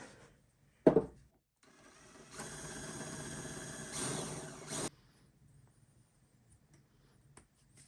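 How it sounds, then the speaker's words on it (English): A drill countersinks a screw hole in one short burst of steady whirring lasting about two and a half seconds, preceded by a sharp knock and followed by quiet. "So I'm going to go ahead and countersink a hole here for the head of the screw to sink down in a little bit."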